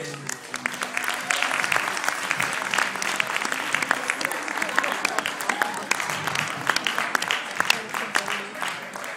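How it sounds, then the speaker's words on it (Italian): An audience welcomes a magician, the stage performer Mago Luigione, with a long spell of dense, sustained clapping, crisp individual claps standing out over the crowd's steady patter and a faint murmur of voices beneath. "accogliamo con un grande applauso il mago Lumigione"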